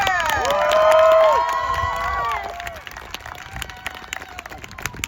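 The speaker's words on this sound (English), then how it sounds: "Give it a big round of applause for Chandler." Audience at a live talk event cheers, whoops and applauds loudly, with high shouted cheers peaking early, then the clapping and crowd noise fade to a quieter patter.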